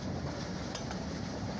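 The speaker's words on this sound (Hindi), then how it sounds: "रेलगाड़ी पे हम जा रहे हैं।" Train riding on the rails on a rail journey in Pakistan, a dense continuous rumble and rattle of the carriage at close range, steady and loud throughout without any talking.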